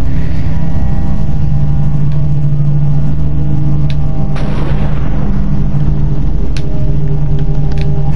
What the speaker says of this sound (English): All I can hear is thunder.